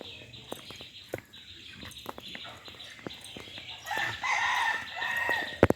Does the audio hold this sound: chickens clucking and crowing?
yes